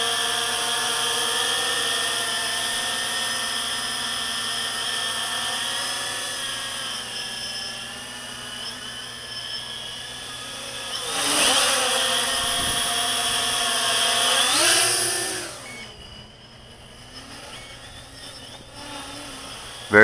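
A Walkera X350 Pro quadcopter with an APM 2.6 controller holds its position outdoors on a slightly breezy night. Its motors and propellers give a steady, nearby whine that swells and shifts pitch twice, then drops lower near the end.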